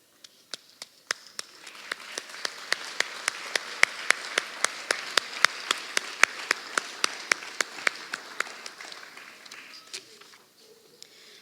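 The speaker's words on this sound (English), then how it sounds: "we would like to recognize you with a big round of applause" Pageant audience giving visiting royalty a round of applause at a town festival: a small, sparse crowd's clapping builds, then a strong rhythmic unison clap of sharp regular beats dominates before fading to quiet.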